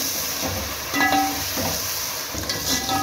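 Oil frying in a pan while yakhni pulao is cooked, a steady close hiss with a few brief clinks and stirring scrapes, no talking.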